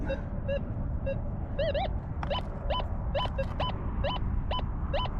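Short electronic beeps and warbling tones from a metal detector repeat over steady background hiss, rising and falling in pitch as it signals a small target while hunting for gold.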